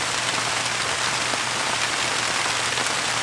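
Rain falling steadily on a sweet potato field, a dense even hiss of drops on leaves and soil that stays constant throughout, with no voices.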